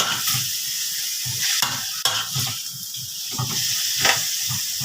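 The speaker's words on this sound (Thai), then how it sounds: "อ่ะผัดให้สุก เลย" Pork neck stir-fried with garlic and pepper hisses loudly in a hot pan, with repeated scraping strokes of a spatula cutting through the continuous sizzle, close and steady, no talking.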